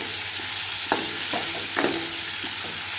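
Curry ingredients for a bitter gourd dish fry in a pan: a constant soft sizzle runs underneath while a spatula taps and scrapes a few times, close and moderately loud, without talk.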